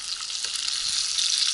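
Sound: fish frying in a pan

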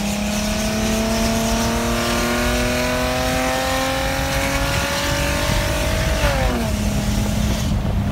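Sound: Mercedes-Benz SLK320 accelerating on test drive

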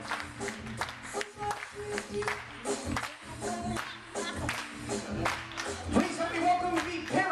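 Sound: wedding guests clapping hands along with the beat

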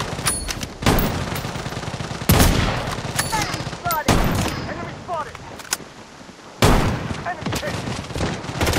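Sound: gunfire in a video game battle

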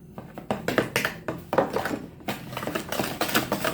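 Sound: granulated sugar added to a bowl for cake batter

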